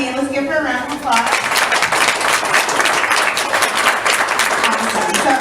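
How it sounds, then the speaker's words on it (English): An audience at a sustainable fashion talk in Calgary breaks into loud, dense applause that carries on steadily to the end, with a voice heard briefly before the clapping starts. "Let's give her a round of applause."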